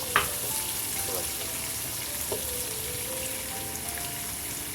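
Chopped onions fry in hot oil in a pan, giving a steady close sizzle with occasional light scrapes and clinks as they are stirred, no talking.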